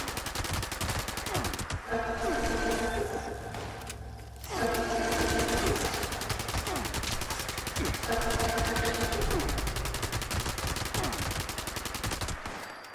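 Sustained automatic machine gun fire in Fallout 76, a dense rapid stream of shots running almost continuously with a brief pause, loud and close, with engine-like hum beneath.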